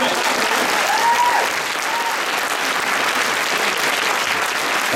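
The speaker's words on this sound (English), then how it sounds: "Let's give a round of applause." A convention panel audience at Phoenix Comicon applauds steadily for several seconds, a dense wash of clapping with a short whistle-like tone early on.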